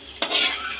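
Gulab jamun frying in oil in a pan, with a steady sizzle and a stirring or scraping stroke that swells partway through, close and fairly loud with no talking.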